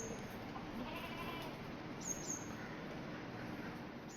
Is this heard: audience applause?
no